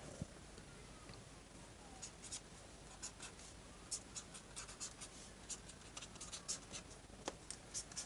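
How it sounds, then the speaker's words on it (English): Pen or pencil writing out dominant 7th chords on paper, a faint, close scratching with quick irregular strokes and taps, quiet throughout with no talking. "I'm going to write out a few dominant 7 chords."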